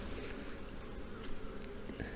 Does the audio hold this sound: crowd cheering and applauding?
no